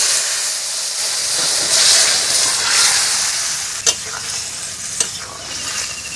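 Turmeric is added to a ginger and green chili paste frying in oil, producing a loud, close hiss and sizzle with a couple of sharp clinks from stirring.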